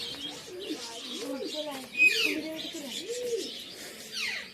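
Pigeons at a village pigeon loft keeping up repeated, rolling cooing calls close by, with faint chirps and background voices underneath.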